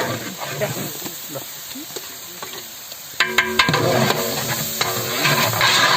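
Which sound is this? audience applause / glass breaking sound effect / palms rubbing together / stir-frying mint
stir-frying mint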